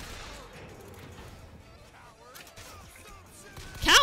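Gunfire rattles in a BioShock Infinite firefight, scattered shots under background noise building to a loud close burst at the end.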